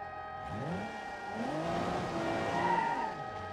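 A damaged Mercedes driven in BeamNG.Drive gives a steady engine drone with rising and falling revs and a scrubbing tyre skid. It runs continuously with no talk.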